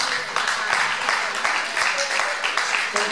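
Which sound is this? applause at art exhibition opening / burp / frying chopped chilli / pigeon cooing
applause at art exhibition opening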